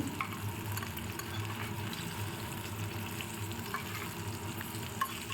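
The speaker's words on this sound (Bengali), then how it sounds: "এটাও আমি চাপা দিয়ে ভাজবো" Low, steady sizzle of thick, large fish pieces frying in oil with faint bubbling, quiet and continuous, a few small clicks now and then, no one speaking.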